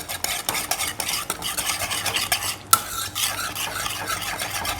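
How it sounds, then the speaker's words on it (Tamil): Yogurt potato curry ingredients, dahi aloo with coriander leaves sprinkled on top, being mixed together in a bowl, giving a steady run of close, wet scraping and stirring sounds with no talk. "இப்போ எல்லாத்தையும் கலக்க வேண்டியதான்."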